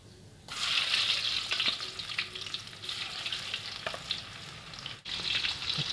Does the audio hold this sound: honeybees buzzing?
no